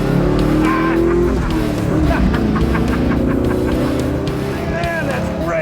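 The big 360 V8 engine of a 1955 Willys Wagon roars steadily and loud, revving up as it accelerates, with rising harmonic whine over a deep rumbling growl throughout.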